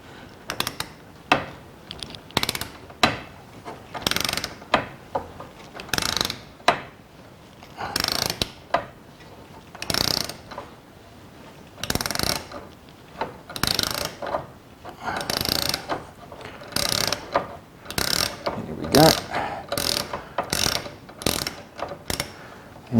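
A ratchet wrench backs out a thread-locked bolt while fitting cylinder head guards on a 2018 BMW R1200GS Adventure motorcycle, giving repeated close bursts of ratcheting clicks with short pauses between strokes.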